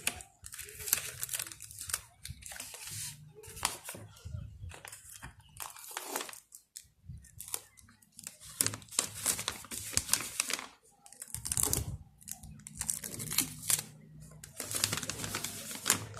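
Sticky tape crinkles and tears as it is pressed over the cut top of a homemade plastic bottle mosquito trap, with rapid irregular crackling rustles throughout, close by and with some speech mixed in.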